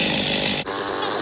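A Stihl MS290 chainsaw engine running loud and close, a dense steady roar with one brief dip as it catches and revs.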